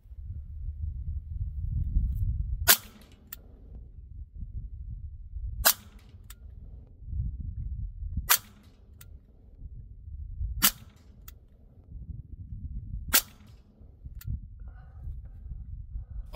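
An AEA SF Compact semi-auto air rifle fires H&N slugs, five sharp cracks spaced roughly every two to three seconds, loud and close over a low rumbling background.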